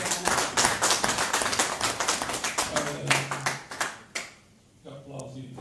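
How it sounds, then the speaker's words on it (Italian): Applause from an audience at a political rally in Marsala, dense crisp clapping close by that thins out toward the end, with a voice briefly audible near the finish. "Applausi."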